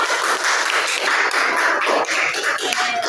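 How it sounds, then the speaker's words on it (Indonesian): Classroom applause for a student: a steady, dense patter of many hands clapping together throughout, fairly close and continuous with no talk over it. "Tepuk tangannya buat Kaira"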